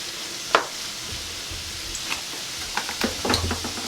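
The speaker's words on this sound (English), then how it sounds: "we're just going to let this simmer for probably another 3 to 4 minutes" Summer vegetable stir fry simmering and sizzling in a pan, a steady hissing with a few sharp clinks and taps of a utensil scattered throughout.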